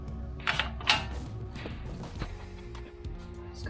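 A torque wrench tightens a new axle nut on a Range Rover Sport during brake service, giving a few quiet ratcheting clicks and metallic creaks in short, uneven bursts up close.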